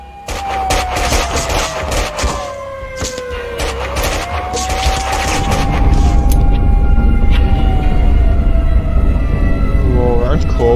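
Rapid bursts of gunfire in the video game Max Payne 2, dense shots crackling over a wailing siren-like tone that slides and dips, with voices talking underneath and a heavy, loud rumble building through the later seconds.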